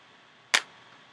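A single sharp plastic snap as a gun piece is pulled off a Transformers Cyberverse Guzzle toy, close and brief against near silence.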